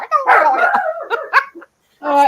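Small dogs bark and yip in quick high-pitched bursts close by, with a puppy's shrill barking mixed in and a short pause before another yelp.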